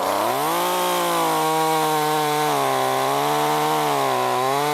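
A small chainsaw runs steadily under load, its engine pitch dipping and recovering as it cuts through a 6-7 inch apple tree limb, loud and close with no talking.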